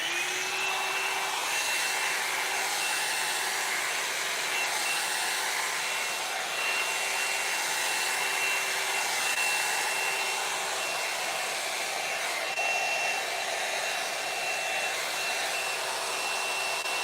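A hair dryer blows steadily and loudly while drying hair, a constant whooshing roar with a faint motor whine throughout.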